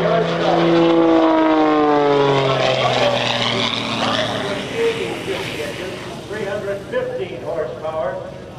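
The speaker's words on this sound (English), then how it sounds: "315 horsepower, a brand new design composite prop from MT Propellers." A new Extra 300 aerobatic airplane with a 315-horsepower engine and a composite MT propeller makes a loud, close pass at the Oshkosh AirVenture airshow, its propeller drone sweeping downward in pitch as it goes by, then fading and rumbling away.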